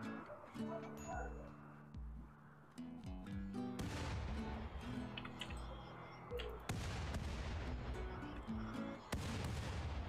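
Mortar fire from a Rimworld battle against mechanoids on sea ice, a run of loud booming blasts and bursts under a steady bed of game music, with heavier salvos landing in clusters through the stretch.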